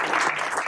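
A brief burst of audience clapping at a community panel discussion greets Alderman Haddow, a dense, even patter of many hands.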